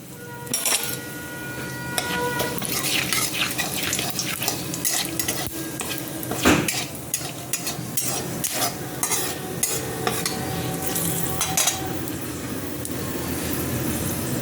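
Whole cumin, bay leaf, cardamom and clove spit and sizzle in hot oil, with steady crackling frying throughout and occasional scrapes and clinks of a utensil stirring in the pan, close and fairly loud.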